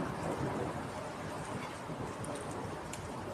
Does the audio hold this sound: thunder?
yes